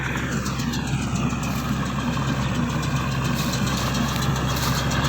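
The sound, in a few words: tractor engine pulling hay baler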